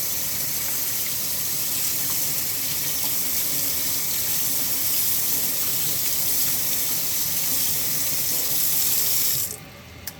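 A betta fish bowl is washed under a running kitchen tap, a loud, steady gush of water splashing continuously for several seconds before the flow stops abruptly.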